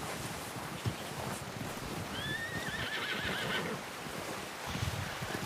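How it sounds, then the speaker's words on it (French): A passing horse gives a clear whinny midway through, heard outdoors against steady wind and rustling leaves, with faint hoof clops around it. "J'ai vu un cheval passer."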